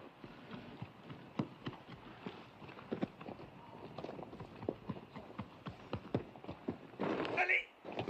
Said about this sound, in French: Les chevaux!